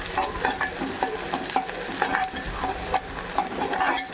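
Food frying in a pan with a steady crackling sizzle and repeated rhythmic spatula scrapes and taps, close and loud, with no voices.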